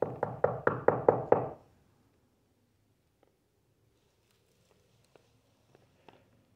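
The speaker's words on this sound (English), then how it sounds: "Can you knock?" A burst of six loud, evenly spaced knocks rings out in an old train depot at night, followed by near silence with a few faint, scattered ticks and taps.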